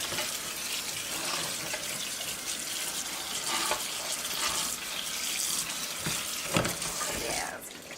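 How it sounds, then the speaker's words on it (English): Tap water runs steadily into a strainer of canned beans being rinsed for white chicken chili, a continuous broadband splashing at close range with no speech over it. "with my beans, I like to put them in a strainer and then rinse them off"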